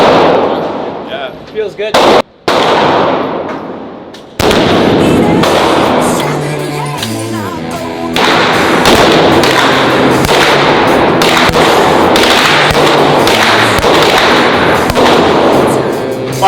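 Gunfire at a shooting range, including a fully automatic Glock: loud, close reports in single shots and rapid bursts, with short remarks from people between strings of fire.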